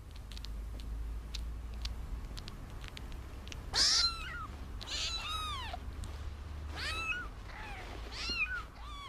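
Newborn kittens nursing at their mother give a string of thin, high, wavering mews, several close together and fairly near, over a low steady rumble with no talk.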